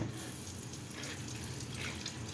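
Steady stream of tap water running over okra in a sink, a continuous close splashing hiss with no pauses.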